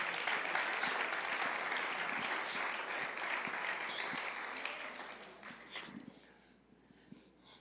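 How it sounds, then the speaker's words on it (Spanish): A church congregation applauds steadily in a large room, a dense sustained clatter of many hands that gradually thins and fades out toward the end. "Aplauda al Señor aunque no lo entienda todo."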